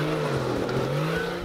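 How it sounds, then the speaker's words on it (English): A Nissan GQ Patrol with a TB42 turbo engine drives off-road in a challenge course, its loud, close engine droning and revving with a rising and falling tone over a short burst. "It's a TB42 turbo. Makes a fair bit of noise and it goes not too bad."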